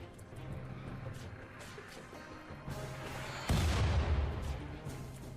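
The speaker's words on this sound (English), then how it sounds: "What kind of nonsense mortar was that?" Mortar fire in the colony-building game RimWorld: a steady rumble of distant bursts and booms, with a louder, nearer blast hitting partway through and the barrage continuing after it.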